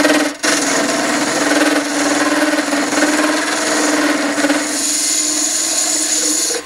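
A round nose scraper cutting a bevel on wood spinning on a lathe, a continuous close scraping rasp over a steady motor hum, with no talk.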